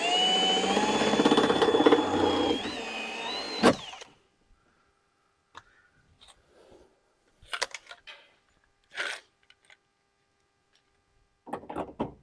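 A power drill bores a hole in a Ford truck door with a loud, whining spin that rises in pitch and stops after a few seconds, followed by quiet with scattered clicks and handling noises.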